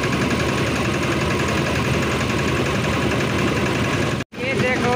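A motor trolley engine runs steadily on a Nepal railway track, a close mid-pitched drone with a rattling undertone that briefly cuts out near the end.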